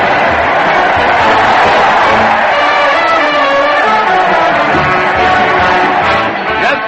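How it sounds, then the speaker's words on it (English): Loud, dense crowd cheer on an old-time radio show as a weekly parade heads to the town hall, a sustained roar of voices and whoops that holds steady and fades slightly at the end. "listen to that crowd cheer Fred Allen as he heads his weekly parade to the old town hall"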